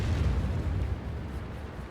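A World of Tanks artillery shot, a deep rumbling boom with a long low roll that slowly decays over two seconds, heard on its own without talk.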